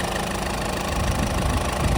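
Diesel Ford EcoSport Titanium Plus, 2016, idling with a steady, even mechanical hum and faint knock, heard close and continuous with no talk.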